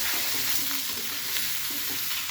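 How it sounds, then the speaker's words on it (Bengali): Onion and garlic dropped into hot oil in a pan where fish was just fried, giving a steady loud sizzle and crackle with faint stirring and no talking. "এখন আমি পেঁয়াজ রসুনগুলো দিয়ে দিলাম"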